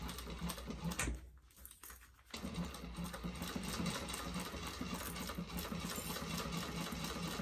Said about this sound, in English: So I'm going to start here. Be sure to backstitch.